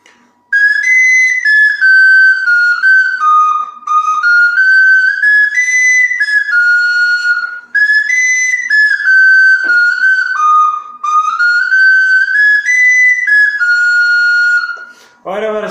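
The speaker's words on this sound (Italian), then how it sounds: "Ora vi farò ascoltare come quarta cosa il Carnevale di Venezia." A Sicilian friscaletto, a small cane flute, plays the Carnevale di Venezia melody, bright and piercing with a wavering, ornamented line that runs steadily and close for about fifteen seconds with barely a pause.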